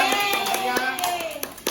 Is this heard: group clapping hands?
yes